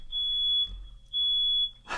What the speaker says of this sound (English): If this is a fire alarm,